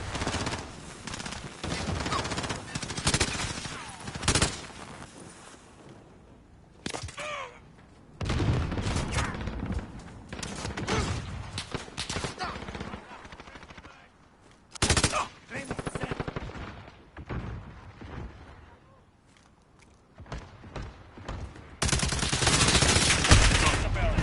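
Heavy automatic gunfire from a Modern Warfare multiplayer match: sustained bursts, single shots and volleys that come and go across the stretch, loud and close, with a player occasionally talking over the fighting.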